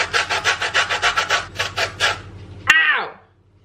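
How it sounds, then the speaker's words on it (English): Lemon zest grated on the fine side of a metal box grater, about a dozen quick rhythmic rasping strokes, close and loud, then a short sharp clatter at the end. "I don't have a zester, so I'm just using like this side of the grater"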